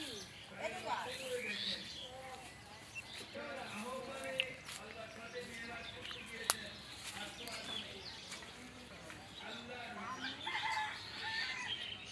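Chickens cluck and murmur softly at a distance, with occasional louder calls, while people talk nearby.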